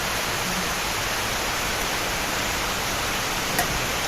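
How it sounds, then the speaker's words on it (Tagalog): Dense, steady roar of heavy rain pouring down, a constant broadband hiss with no pauses or voices. "Lakas ng ulan dito sa amin."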